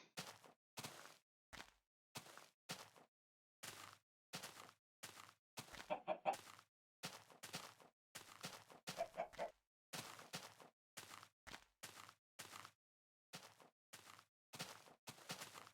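Repeated video game chicken clucks in short bursts as it lays an egg, fairly regular and close, with no talking; the fowl sounds continue steadily throughout.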